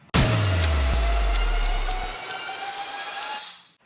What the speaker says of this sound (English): Then I have a snare build up, just some effects here,